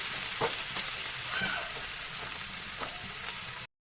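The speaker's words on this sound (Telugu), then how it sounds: "కరివేపాకు కొత్తిమీర అది కూడా వేయించేసుకున్నాం. ఇంకా అది కూడా చక్కగా ఫ్రై అయిపోతే బాగుంటుందండి." Curry leaves and coriander frying in a pan, an even hissing sizzle with a few soft stirring clicks, close and unbroken before cutting off abruptly.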